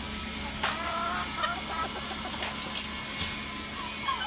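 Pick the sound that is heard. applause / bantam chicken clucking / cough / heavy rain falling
bantam chicken clucking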